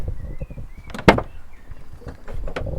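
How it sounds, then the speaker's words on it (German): A camper van door is opened with a sharp clunk of the latch and a brief rattle and slide, heard up close and loud against a soft background. "Öffnen wir mal die Tür."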